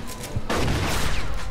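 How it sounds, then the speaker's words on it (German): A loud, booming shotgun blast in the video game Mafia II erupts and rumbles on, close and heavy, with a few sharper cracks before it. "die Shotgun geht ab"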